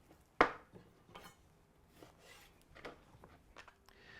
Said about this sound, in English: First thing I'm going to do is simply cut these up so they'll fit in my grinder.